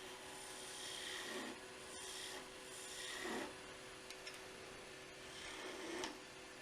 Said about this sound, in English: the one thing I missed on the other front side was sanding